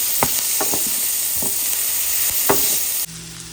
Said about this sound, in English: Gonna add in some onions and peppers and let them start to cook.